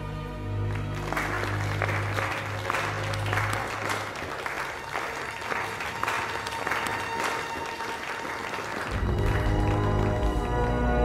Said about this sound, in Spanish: Aplaudid a vuestra reina.